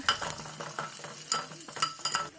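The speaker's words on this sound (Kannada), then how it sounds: "ಅದು ಸಣ್ಣಗೆ ಹಚ್ಚಿರೋ ಈರುಳ್ಳಿ ಹಾಕ್ಕೊಂಡೆ. ಮತ್ತು ಸ್ವಲ್ಪ ಕರಿಬೇವು ಸೊಪ್ಪು ಹಾಕಿದ್ದೀನಿ. ಸ್ವಲ್ಪ ಬಾಡಿಸ್ಕೋಬೇಕಾಗುತ್ತೆ." Chopped onion and curry leaves fry and crackle in a pan for aloo gojju while a spoon stirs and scrapes against the metal, close and fairly soft.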